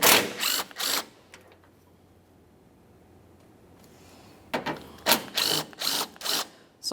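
A ratchet loosens 10mm mounting bolts on a Toyota Sienna's AC condenser assembly, several close, bursts of rapid clicking at the start and again near the end with a quiet pause between.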